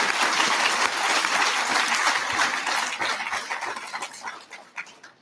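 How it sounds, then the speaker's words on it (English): Audience applause for sponsors at a public conversation event in Vancouver, a full round of clapping from a large crowd that starts dense and loud, then thins to scattered claps and trails off. "Let's give all the sponsors another round of applause."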